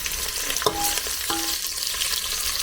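Sliced onions sauté over a wood-fired stove for a mutton dish, giving a continuous loud sizzle broken by a couple of sharp spoon scrapes against the pan.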